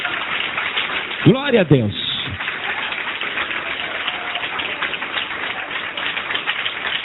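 A church congregation applauds throughout, a steady dense patter of many hands filling the room while a voice briefly rings out over it near the start.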